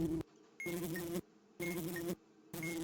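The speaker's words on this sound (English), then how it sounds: "I think that's also a honeybee." Buzzing honeybee sound effect from the Keep Talking and Nobody Explodes video game, heard as three separate bursts of droning buzz broken by short silences.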